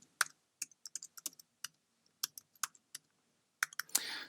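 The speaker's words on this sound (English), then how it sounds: "we can just start typing in to add some new data" Quick keystrokes on a computer keyboard as table data is entered in desktop publishing software, clicking in irregular bursts with short pauses, close and clear with no talking.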